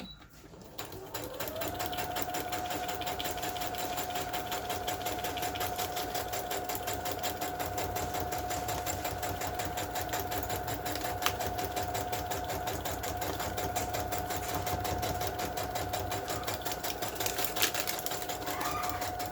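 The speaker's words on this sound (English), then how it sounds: "And then I'm just going to stitch it on." A sewing machine runs steadily for most of the stretch, a fast even stitching chatter stitching a collaged, coffee-dyed paper tag, close and alone without talk.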